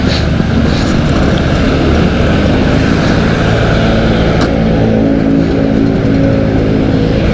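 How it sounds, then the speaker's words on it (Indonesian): A Vespa scooter engine running loud and close, a continuous dense buzzing drone that holds steady throughout with no voices over it. "Oke, kita engine on dulu cuy."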